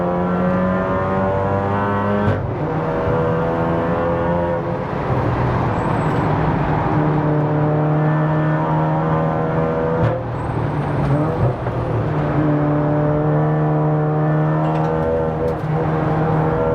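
A 500 BHP big-turbo VW MK7 Golf R laps a race circuit, its engine droning loud and close from onboard with steady harmonic pitch that rises and drops through gear changes, continuous throughout with no talking.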